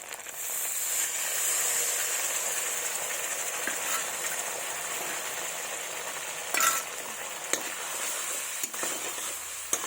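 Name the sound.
spice paste frying in oil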